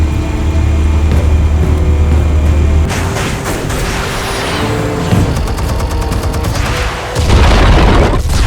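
Explosives detonate in Batman: The Telltale Series, heavy booming blasts with deep rumble and crackling debris, loud and close, rolling on for several seconds with a second low surge near the end.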